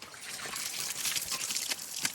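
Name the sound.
water poured over body at a well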